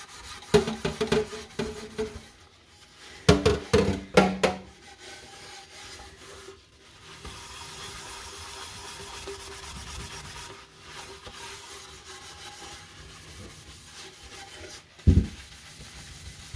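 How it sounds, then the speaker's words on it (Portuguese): Aluminium cookware scrubbed by hand with a cleaning product, bursts of close rough rubbing strokes at the start, then a quieter stretch and one last sharp scrape near the end. "Você tem que ter paciência"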